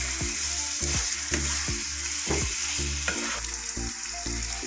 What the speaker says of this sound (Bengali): আরো মিনিট দুয়েক এটাকে ভালো করে নাড়াচাড়া করে নেব।